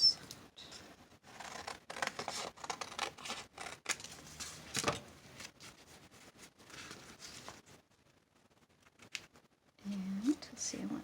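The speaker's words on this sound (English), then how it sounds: "So I'm going to cut it to pieces." Close scissors cut through card for handmade valentine cards, a run of short crisp snips and rustles, with a person talking softly over and between the cuts.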